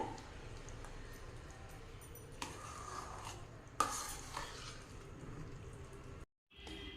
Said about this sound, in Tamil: இப்போ வந்து நம்ம கலந்து விட்டுறலாங்க